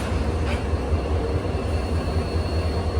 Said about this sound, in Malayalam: ഇവിടെ നിന്ന് 2 ബ്രേക്കർ ലോക്കോമോട്ടീവുകൾ അറ്റാച്ച് ചെയ്യുകയാണ്.